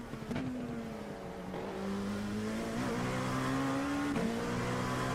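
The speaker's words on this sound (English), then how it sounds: "I love the way the car sounds" A race car engine in the iRacing sim game hums steadily at moderate revs, pitch rising and dipping with brief shifts, fairly faint and without talk.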